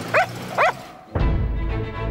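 A dog, a collie, gives two sharp, close barks, then a brief pause before a deep swelling rumble of dramatic music fills the rest.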